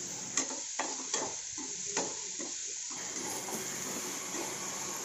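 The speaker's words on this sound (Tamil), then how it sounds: "அதையும் சேர்த்து நல்லா பொன்னிறமாக வர வரைக்கும் நல்லா வதக்கிக்கலாம்" Finely chopped onions sauté in a hot pan for a dried vanjaram fish gravy, a steady hissing sizzle with a few scraping clicks from stirring near the start, close and continuous.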